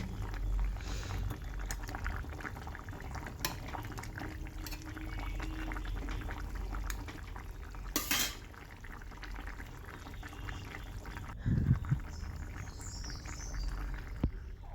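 Rohu fish curry with drumsticks simmers in a pot, a low steady bubbling and gurgling with occasional clinks and soft knocks nearby, quiet and without talk.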